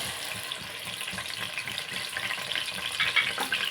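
Dried prawns crackle in hot oil, giving a steady, close sizzle with bubbling spits that grow slightly livelier toward the end; no voices.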